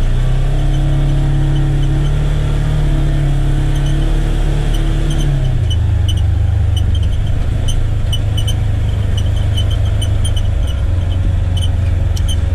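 A Polaris Ranger XP1000 UTV fitted with a Hunterworks clutch belt cruises at 40 mph, its engine a loud, steady drone that drops to a lower pitch midway, with no talking.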